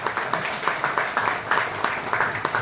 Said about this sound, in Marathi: जोरात टाळ्या वाजवता या आजच्या प्रमुख पाहुण्यांसाठी